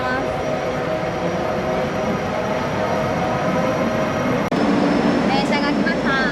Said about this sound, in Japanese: 電車が来ました。